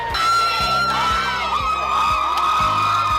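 A dense crowd of sorority seniors screams and cheers continuously at high pitch to welcome new members, loud and sustained over a steady rhythmic bass beat.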